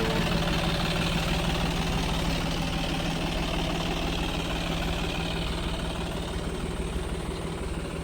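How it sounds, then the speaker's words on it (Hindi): A John Deere 5105 40 hp tractor with an 8.5-foot Maschio rotavator sits idling nearby, its engine putting out a steady, rhythmic diesel chug and low rumble throughout, with no speech. "5105 40 हॉर्स पावर ट्रैक्टर"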